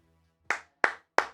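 Three sharp, evenly spaced hand claps ring out close and loud in a quiet room, each a crisp single smack.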